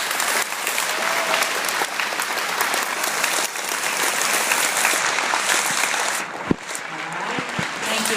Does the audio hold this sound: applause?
yes